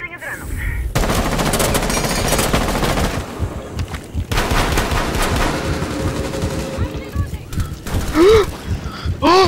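Rapid automatic gunfire in Rainbow Six Siege, loud sustained bursts close by with short pauses between, then scattered shots as players talk over it.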